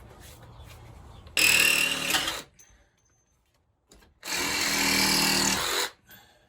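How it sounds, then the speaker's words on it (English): A Sawzall reciprocating saw cuts off old nails while a rotten patio post is being replaced, running in two loud, steady bursts of about a second and almost two seconds, with a quiet pause between them. "I'm going to take my Sawzall and cut those off."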